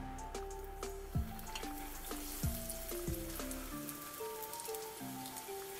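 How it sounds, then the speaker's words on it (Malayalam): Chicken bread rolls fry in hot oil with a steady, close crackling sizzle and scattered drips, over a faint background tone with a few low thumps. "ഇത്രയും ചെയ്ത് നമുക്കിതിനെ ഫ്രൈ ചെയ്തെടുക്കാം."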